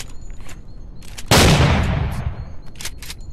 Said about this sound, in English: Oh, the Tommy gun.